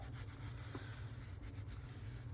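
Folded paper is burnished down flat while an envelope journal is being made, giving a soft, faint rubbing scrape that continues through the moment with no talk.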